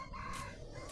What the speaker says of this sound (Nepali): भालेहरू पनि बासीको सुन्नुभयो होला